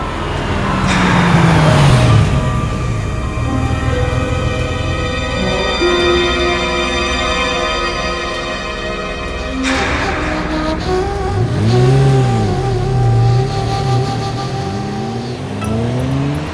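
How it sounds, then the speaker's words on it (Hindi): A motor vehicle passes along a road near a street cricket game, its engine swelling loudly as it approaches, holding, then fading, followed by a second vehicle's rising and falling hum; no talk over it. "उस गाड़ी को जाने दे।"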